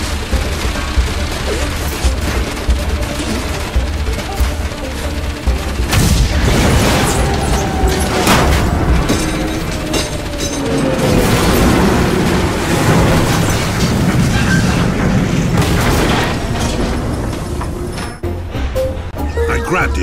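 Explosions rumble and crash through Enslaved: Odyssey to the West, a long stretch of loud, dense blasts and debris with mechanical clatter, while someone talks over the action.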